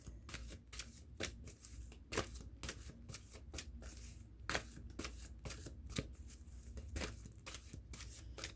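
Tarot cards being shuffled by hand close up, a rapid series of crisp riffling bursts and soft flicks repeating in an irregular rhythm, quiet and with no talking.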